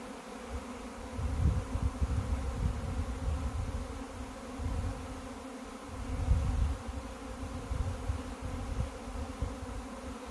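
A honeybee swarm buzzes steadily around a blue hive outdoors, a dense low hum that rises and falls in waves, with no talking.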